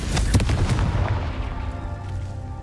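Confringo fire spell blasting in Hogwarts Legacy, a burst of several sharp booming explosions early on that trail off into a decaying rumble and ringing tail.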